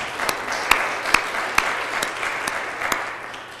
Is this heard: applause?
yes